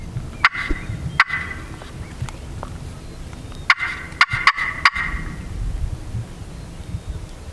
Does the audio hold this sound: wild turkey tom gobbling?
yes